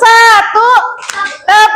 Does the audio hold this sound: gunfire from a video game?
no